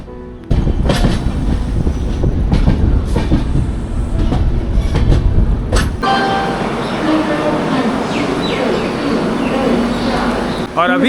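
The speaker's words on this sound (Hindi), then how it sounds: "यहाँ से मैं पकड़ूंगा उत्तर बंग एक्सप्रेस, जो कि 7:40 से यहाँ से खुलती है" Uttar Banga Express train running on rails near New Jalpaiguri, a loud continuous rumble with clattering wheels, shifting to a steadier rolling hum partway through, with birds faintly audible.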